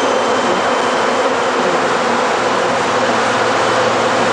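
Over 20,000 bees swarming on a man's body, a dense, loud, continuous buzzing drone that stays steady throughout with no talk.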